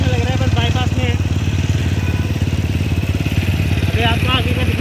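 A TVS Apache 200 BS6 motorcycle rumbles steadily while being ridden along a road, a loud close engine drone with a rider talking over it.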